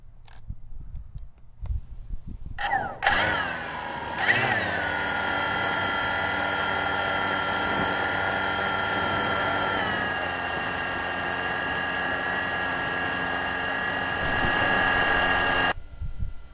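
A Cheerson CX-20 quadcopter drone spins its motors up from silence, a loud steady whine with rising harmonics that holds for about twelve seconds before cutting off abruptly.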